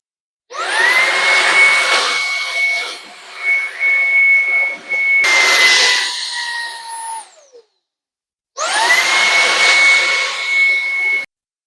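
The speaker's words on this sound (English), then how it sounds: "Take our floor nozzle, put that on. Now let's do a little floor cleaning." Ryobi 18V jobsite hand vacuum (model PBLHV701) with floor nozzle cleaning a floor: loud, steady motor whine with a high whistling tone, running in two long bursts separated by a spin-down and a short silence, heard alone.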